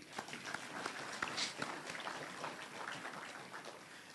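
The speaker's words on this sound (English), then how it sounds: "Another round of applause." An audience at the Barbados Workers' Union annual delegates conference applauding, a soft, continuous patter of many hands heard from a distance throughout.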